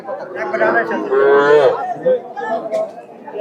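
At a busy cattle market selling desi and Sahiwal heifers and bulls, one animal lets out a drawn-out low moo amid nearby crowd chatter and people talking.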